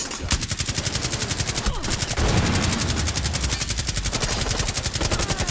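Rapid machine gun fire in Rainbow Six Siege on a house map, a continuous loud stream of closely spaced shots for the whole stretch, dense and unbroken.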